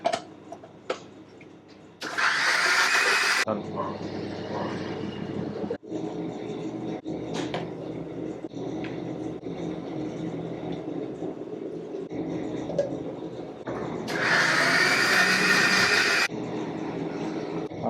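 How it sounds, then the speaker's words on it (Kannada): A kitchen mixer grinder blends onions with a little water into paste, running in two short, loud whirring bursts separated by quieter background clatter. "ಇದರಲ್ಲಿ ಈರುಳ್ಳಿ ಹಾಕ್ಕೊಂಡು ಸ್ವಲ್ಪ ನೀರು ಹಾಕ್ಕೊಂಡು ಈಗ ರುಬ್ಕೊತಾ ಇದ್ದಾರೆ"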